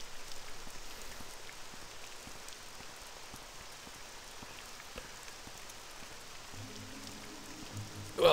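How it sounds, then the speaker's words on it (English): Steady rain patters continuously in the video game Morrowind, running on the OpenMW engine, a dense, even hiss of raindrops with faint scattered ticks and a soft low hum near the end. "you walk outside and it's raining and the raindrops are creating this admittedly very simple and completely, you know, disconnected from the actual raindrops effect"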